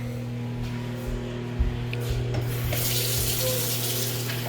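Regular tap water running from a kitchen faucet into a sink, a steady hiss and splash under a constant electrical hum, close and moderately loud.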